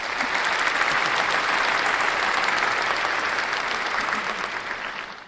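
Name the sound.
applause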